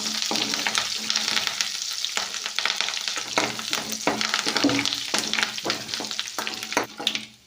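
Curry leaves fry with mustard seeds and cumin in a hot oil tempering for bottle gourd chutney while a spatula stirs the pan. Steady close sizzling runs under repeated scraping stirs.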